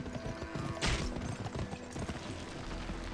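Rapid clip-clop of horse hooves during a race in a video game, a busy patter of galloping steps at moderate volume with no talk.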